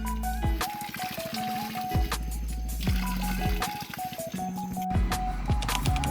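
Spring water pouring and trickling from a natural spring outdoors, a continuous bubbling, gurgling flow with shifting watery tones and splashy drops close by.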